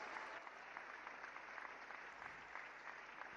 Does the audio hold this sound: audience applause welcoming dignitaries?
yes